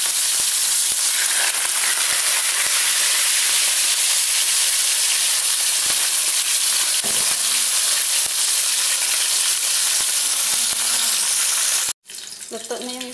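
Fish frying in a hot pan for sambal, a loud steady sizzle and crackle filling the whole stretch before cutting off abruptly near the end.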